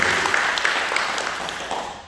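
A church congregation claps in praise, a dense wash of applause heard at a moderate distance that slowly fades over a couple of seconds.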